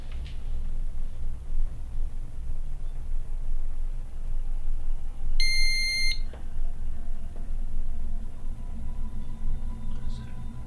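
A ghost-hunting device gives one short electronic beep burst midway, a bright stacked tone lasting under a second, during a paranormal investigation in a house, set against steady low room rumble with no other clear sounds.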